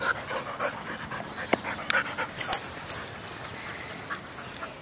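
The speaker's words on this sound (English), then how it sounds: "We play with the dogs." Dogs pant steadily and let out high whimpers and yips while playing indoors, close and fairly loud, with a few sharper spikes and no talking.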